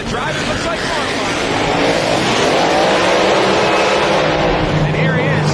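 An altered hot rod drag racer roars through a semifinal round, its loud engine sustained and close with a rising howl and broad rumble, while an announcer talks over it.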